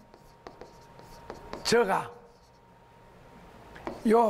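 Marker or chalk strokes on a board: a series of short, close scratches and taps come in irregular bursts, with a person speaking in between.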